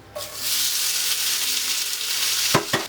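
Soaked potatoes sizzle loudly in a hot skillet, a steady crackling hiss, followed by a couple of scraping stirs near the end.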